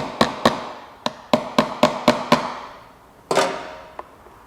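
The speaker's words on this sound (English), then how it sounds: "Use this small hammer, tapping them into place." A small hammer taps spacers into place on a Vespa GTS topcase rack, sharply about ten times, in quick bursts with short pauses and one heavier strike, close and clear.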